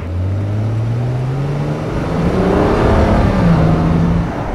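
BMW 3 Series sedan engine revving and accelerating, a loud rising drone with the pitch climbing steadily, nearby and without talking.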